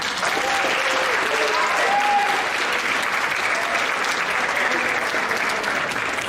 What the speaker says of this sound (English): one more big round of applause for Brandon